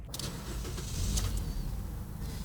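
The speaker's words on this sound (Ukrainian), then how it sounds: "тихенько працює двигун" A car engine idles with a steady, low hum from inside the cabin, joined by a brief faint whirring near the start.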